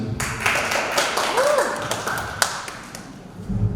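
Audience applause at a motivational seminar, a steady patter of many hands clapping at moderate volume through the whole stretch, with a sharper single tap standing out near the middle.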